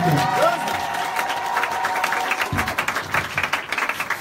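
A church congregation applauding and cheering, dense clapping and shouts at close range that swell and stay loud throughout, with a held musical tone underneath early on.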